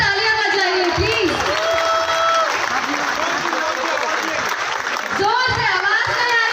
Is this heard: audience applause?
yes